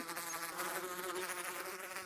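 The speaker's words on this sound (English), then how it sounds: "Bees get hostile if you whack them." A bee buzzes steadily in the Minecraft video game, a continuous insect drone heard alone at moderate level with no talking over it.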